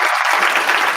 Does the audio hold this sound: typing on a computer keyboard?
no